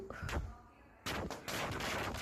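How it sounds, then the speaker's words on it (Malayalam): Firecrackers bursting at midnight outside a home during a birthday celebration, a quick series of sharp crackling pops that builds into a dense, continuous burst at fairly close range. "അങ്ങനെ അതാ പടക്കം പൊട്ടിച്ചു."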